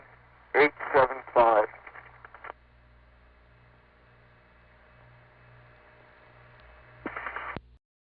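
A 1970s step tandem telephone switch in the 914 area of New York dials seven digits: faint rapid clicking and relay pulsing under a low hum, with a few brief louder bursts of signaling tones at the start and end.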